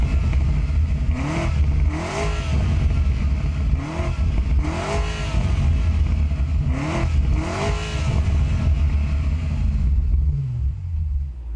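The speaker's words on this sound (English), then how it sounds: "this thing still has a V8, so let's go ahead and fire it up" 2025 BMW M5 twin-turbo hybrid V8 starting up and revving, with several sharp throttle blips rising and falling over a steady idle rumble, close and loud, then settling at the end.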